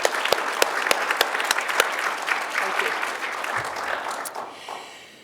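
The audience at an annual general meeting gives a round of applause, with dense, crisp clapping that fades out near the end.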